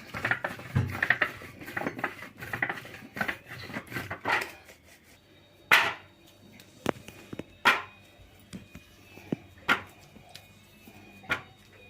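Soft samosa dough cut on a kitchen surface, with a quick run of clattering knife-and-board taps and then scattered, sharper single knocks spaced a second or two apart, close and fairly quiet.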